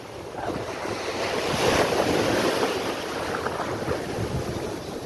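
Sea surf rolling and crashing onto the shore at Uncha Kotda beach near Mahuva, a steady loud wash of breaking waves with heavy wind buffeting the microphone throughout, no voices.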